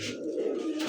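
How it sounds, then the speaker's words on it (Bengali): A racer pigeon gives a single soft, low coo, brief and quiet against faint background noise. "সেই রেসার ভাই, সেই একটা কবুতর"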